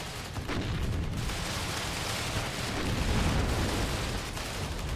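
Continuous rumbling barrage of cannon and gunfire from a Russian Terminator fighting vehicle in the WARNO war strategy game, dense booms and blasts layered over one another at steady loudness throughout, with no talking.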